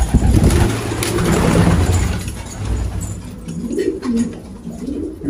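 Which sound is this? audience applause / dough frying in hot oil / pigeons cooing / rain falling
pigeons cooing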